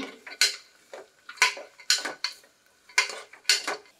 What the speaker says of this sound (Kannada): ನೋಡಿ, ಇದು ಫ್ರೈ ಆಗ್ತಾ ಉಂಟು